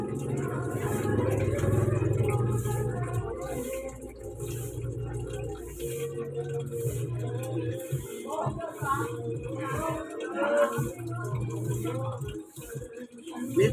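Washing machine spinning in a home in Tondo, Manila: a steady low motor hum for about six seconds, then looser clattering and sloshing while people talk nearby.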